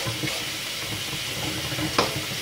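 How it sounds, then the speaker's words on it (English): Hot water runs from a kitchen tap over a spatula while cleaning off peanut butter, a steady rushing splash with a brief clatter near the end; no talking. "I'm gonna run that, some hot water on that real quick."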